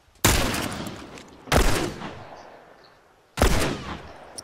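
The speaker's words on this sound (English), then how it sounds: "Someone shooting at Nami" Three loud gunshots from The Last of Us Remastered ring out over a few seconds, each a sharp blast trailing into an echoing decay, with no talking.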